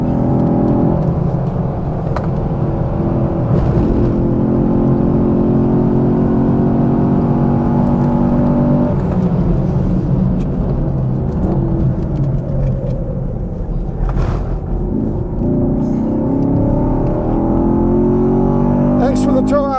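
Chevrolet Camaro SS 1LE lapping a race track, its engine droning steadily and rising through the gears from inside the cabin, with tire and wind noise. People talk over it throughout.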